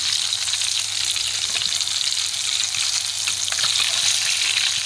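Pieces of rohu fish fry in hot oil, a dense, continuous close sizzle with fine crackling that stays loud and even throughout, with no voices.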